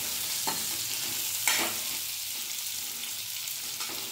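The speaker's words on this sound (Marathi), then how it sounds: "परतून घेऊया मंद आचेवर।" Ridge gourd sautéing in a pan over a low flame, a soft steady sizzle broken by a few spatula stirs and scrapes, close up with no voices.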